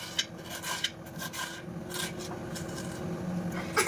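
Knife chopping onions into small pieces makes soft, irregular rasping cuts and scrapes against a wooden board, close and fairly quiet, with a few sharper taps at the start and end.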